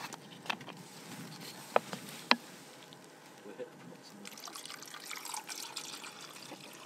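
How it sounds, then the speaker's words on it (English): Water is poured into a camping pot holding chopped sausage while wild camping on Scafell Pike in the Lake District, a faint trickle and splash with a few sharp clicks of the pot. "Fill it up with water."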